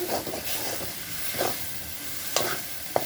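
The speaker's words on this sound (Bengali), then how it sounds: "সব মিশিয়ে দেবো" Shutki dried fish and kochur loti stirred in a pan, a continuous hiss and sizzle with occasional scrapes and sharp clicks of the utensil, close and moderately loud, no talk.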